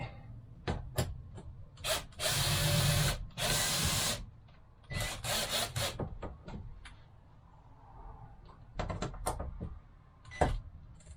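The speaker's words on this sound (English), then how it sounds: "Now I'll shoot a screw in it." Power drill driving a screw into a custom party bus ceiling, heard as several short bursts and longer whirring runs of the motor with brief pauses, close and fairly loud, with scraping and handling noises between.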